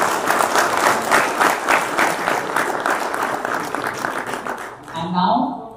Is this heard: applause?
yes